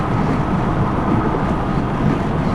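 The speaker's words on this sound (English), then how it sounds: "hitting that rev limiter, 62" A Honda PCX150 scooter engine holds high revs against its rev limiter, a loud, dense, steady drone mixed with wind buffeting on the microphone while riding, with no voices.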